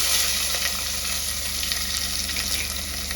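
Onions hitting hot oil with dried curry leaves for sambar produce a loud, continuous, close-up frying hiss that stays dense and even throughout.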